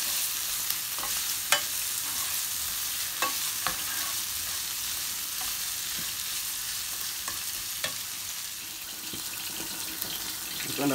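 Green plantain pieces frying in a pot, a constant sizzle with occasional spoon scrapes and knocks as they are stirred.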